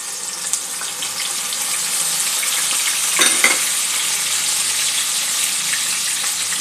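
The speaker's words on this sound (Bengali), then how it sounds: "ফোড়নটা সামান্য একটু ভেজে নিয়ে পেঁয়াজ আদা রসুনের যে পেস্টটা তৈরি করেছিলাম সেই পেস্টটা দিয়ে দেবো" Spices sizzle steadily in hot oil in a pan, a continuous close frying hiss with a brief louder burst of sizzle partway through as an onion-ginger-garlic paste goes in for an egg gravy.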